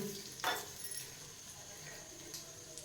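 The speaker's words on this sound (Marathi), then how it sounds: "आणि आता आपण या मिरच्या घालूया." Green chillies hit hot tempering of mustard seeds, cumin and asafoetida with the gas turned off, giving a brief sharp sizzle burst followed by faint lingering crackle.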